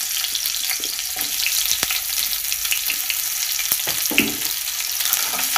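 Spices and then onions frying in oil in a pan, a continuous loud sizzle with occasional scraping stirs and small pops, close up with no talking.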